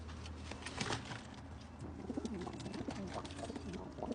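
Homing pigeons coo in a soft, repeated, low rhythm close by, with a couple of birds overlapping in a continuous murmur and no talk.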